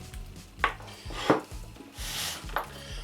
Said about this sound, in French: couper mon maroilles